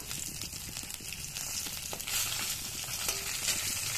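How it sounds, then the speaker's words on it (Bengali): Pieces of rohu fish fry in oil until reddish, giving a steady close crackling sizzle with faint stirring scrapes throughout and no talk. "মাছটা ভাজা করছি, একটু লাল লাল করেই ভাজা করছি।"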